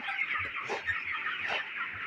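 Twenty-six-day-old broiler chickens in a poultry shed in winter cluck continuously as a dense, busy flock chorus, with a few louder individual calls rising above the murmur.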